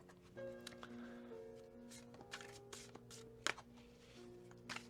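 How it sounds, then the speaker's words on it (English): A Pride Tarot card deck is shuffled by hand indoors, giving soft papery riffles and sharp card slaps in quick bursts, faint and close, over a quiet background hum. "Let's see how it shuffles now."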